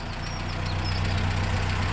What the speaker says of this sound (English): but that is one quiet engine.